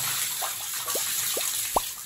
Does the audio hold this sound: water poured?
yes